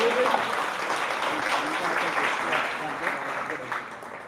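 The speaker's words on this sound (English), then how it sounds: "Let's give a round of applause for Agno." Audience applause at a Vibe Days tech event, a steady dense wash of clapping that holds for several seconds, with talk in the room underneath.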